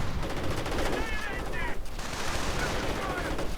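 Rapid gunfire crackles continuously through a WWII strategy video game battle as an anti-tank gun position comes under heavy fire, with the bursts packed densely and a voice commenting faintly underneath.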